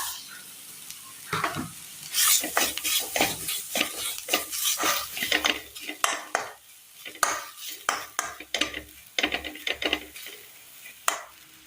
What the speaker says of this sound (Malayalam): അടുപ്പത്തൊരു ചട്ടി വെച്ച് കൊടുത്ത് ഇതിലേക്ക് തേങ്ങ തിരുമ്മിയത് ഇട്ട് കൊടുക്കാം.